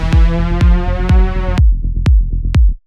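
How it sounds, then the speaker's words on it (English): A bright detuned saw wave synth lead with pitch bend automation plays sustained notes and then short staccato hits over punchy, repeating kick-like thumps, loud and alone. "Just a really basic detuned saw wave lead"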